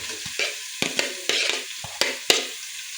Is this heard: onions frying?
yes